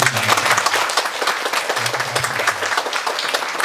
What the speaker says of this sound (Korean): 큰 박수 드립니다